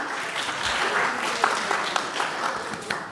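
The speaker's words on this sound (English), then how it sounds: "Clap." A congregation at a Sunday service breaks into applause, a moderate wash of clapping with a few sharper nearby claps standing out, running for about three seconds.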